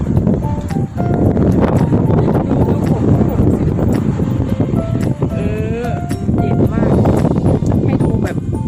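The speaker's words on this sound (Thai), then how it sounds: "แบบทุกคนลมมาแบบเย็นสดชื่นมาก" Cool wind blows outdoors at a women's dormitory in Chaiyaphum, buffeting the microphone with a loud, continuous rushing noise as someone talks over it.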